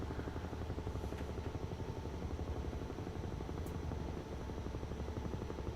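A Huey helicopter flies over snowy Colorado aspen country, its rotor a steady, loud, continuous thudding chop with engine whine, close and unbroken.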